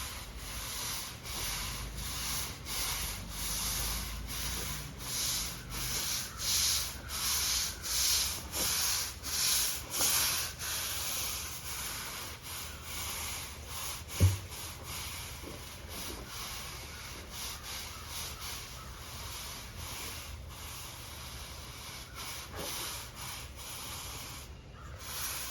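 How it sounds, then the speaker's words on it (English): Brush scrubbing across a patio surface being prepared for sealing, a rough, rhythmic swishing scrape that repeats in steady strokes, fairly close, with one sharp knock partway through. "And just give it a quick scrub."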